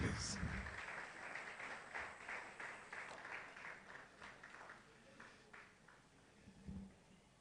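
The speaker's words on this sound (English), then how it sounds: "Another round of applause for her" Applause from the audience at a business exhibition youth session on insurance reform, a soft, fairly distant patter of many hands under steady low talk, with a louder burst near the end.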